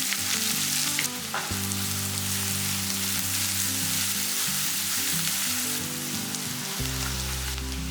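Finely chopped large onion and cumin frying in a pan, a loud, steady sizzle with occasional stirring scrapes, continuous and close, with no talk.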